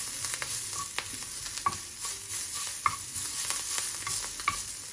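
Kalojira (black cumin) chutney being stirred and fried in a pan, a steady soft sizzle under short scraping strokes that come irregularly, close and moderately quiet, with no talking.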